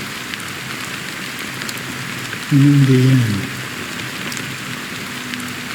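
Steady rain falling in the video game Honkai: Star Rail, an even, close hiss of rainfall that runs throughout, with a brief spoken line over it midway.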